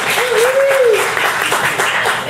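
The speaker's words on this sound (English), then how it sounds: "You're clapping already." Live audience applause for a newcomer coming onto a stage, a steady, dense wash of clapping heard from within the crowd, with a brief vocal tone over the top early on.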